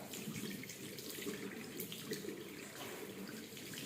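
A household tap runs steadily into a sink while a child washes his hands, giving a continuous close splashing rush of water with no talking.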